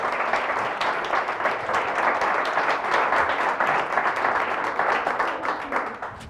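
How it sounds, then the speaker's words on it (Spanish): A church congregation at an Easter vigil Mass bursting into loud, sustained applause, dense clapping from many hands filling the space steadily for several seconds. "Fuertes aplausos"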